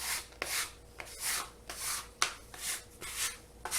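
A bench scraper pushes flour across a pastry board, giving repeated soft scraping strokes in a steady rhythm of about six or seven passes, close and fairly quiet.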